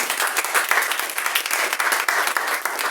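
A church congregation claps and applauds together in a dense, steady wave of hand claps that fills the room, continuous and fairly loud throughout, with a faint voice underneath.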